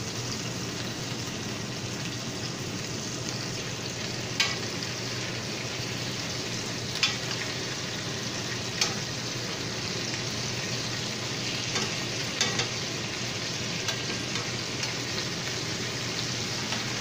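Jerk-seasoned short lamb chops pan-seared after being flipped, a dense, steady sizzle of fat in a hot pan with a few faint clicks, close and continuous, no speech.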